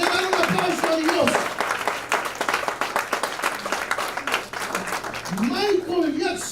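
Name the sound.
church congregation applauding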